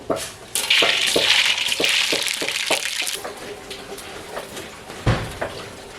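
Mustard seeds added to a hot pan for a snake gourd kootu: a bright, hissing sizzle rises and fades, with light scraping and tapping of a utensil against the pan and a thud near the end.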